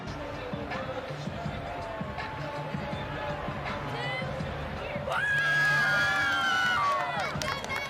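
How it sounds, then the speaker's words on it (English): Stadium crowd at a West Virginia home football game against Towson cheers in a broad, steady roar that swells louder partway through, with a shrill whistle riding on top and a commentator talking over it. "Bunch of smiling and cheering in the stadium today for West Virginia fans"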